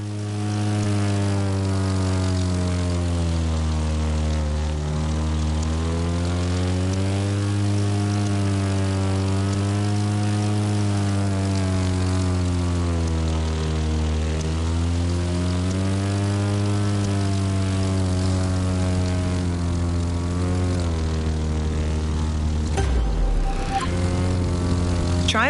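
Steady, loud drone of an airplane engine and propeller in The Crew 2 racing game, its pitch gently rising and falling as the plane maneuvers, holding throughout.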